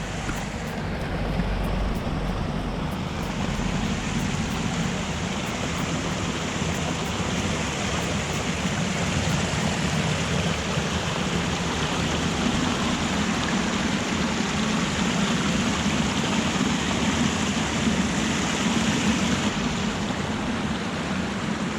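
Cold, fresh water rushing through a rocky stream in a wild spot in Lower Silesia in spring, a steady, loud, close broadband rush that continues unbroken and alone throughout.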